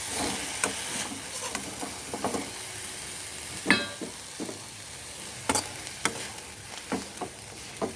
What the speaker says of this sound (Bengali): আমার শাক ভাজা হয়ে গেল, এবার আমি শাক ভাজাটা তুলে নেব একটা বাটিতে